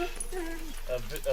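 A Vizsla-Labrador mix dog at a fall campsite lets out short whimpers and yips in quick, rising and falling bursts, close by, with people talking around it.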